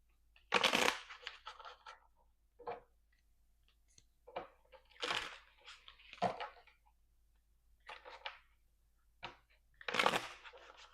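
Tarot cards are shuffled in several separate bursts, each a quick riffling flutter of a few seconds, close by, with quiet pauses in between.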